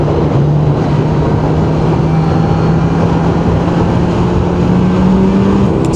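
A Kawasaki Z1100 SE literbike riding in a group with scooters including a Giorno, NMAX and Aerox models: a loud steady engine drone with road and wind roar, the pitch rising slowly as it accelerates.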